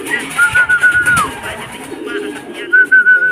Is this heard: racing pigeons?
yes